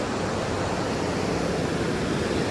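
Broad, steady rushing roar of a fast-flowing river near a small village temple, constant and fairly loud with no pauses.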